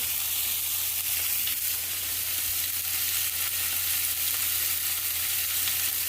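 Food fries in hot oil for a Chicago-style jibarito sandwich, a steady, loud, unbroken sizzle and hiss with no voices.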